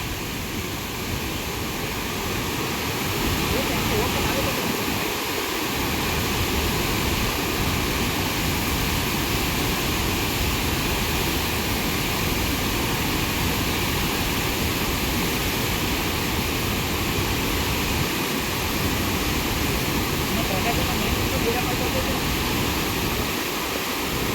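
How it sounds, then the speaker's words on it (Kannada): Water at roughly forty to forty-five thousand cusecs roars out of the opened gates of the Hemavathi dam at Gorur, a loud, dense, unbroken rush lasting the whole time with no pauses. "ನಲ್ವತ್ತರಿಂದ ನಲ್ವತ್ತೈದು ಸಾವಿರ ಕ್ಯೂಸಸ್ ನೀರು ಒಯ್ದೈತೆ"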